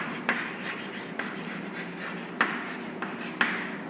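A pen scratches out an accounting entry on paper, a soft continuous scribbling with a few light taps as strokes begin, close and quiet with no talking.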